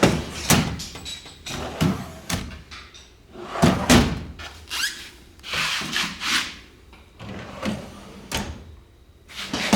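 The drawers of a metal tool chest, a Yukon 46-inch and a US General 42-inch Series 3, are pushed and slammed shut, giving a string of sharp sliding rattles and bangs in uneven bursts, close and fairly loud, with no speech.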